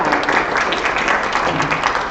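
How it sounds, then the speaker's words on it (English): Sustained applause from a school audience for fifth grade spelling bee finalists, a dense steady clapping wash filling the whole stretch without pause. "Let's give a round of applause for our fifth grade"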